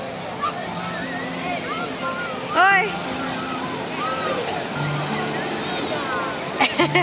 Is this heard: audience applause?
no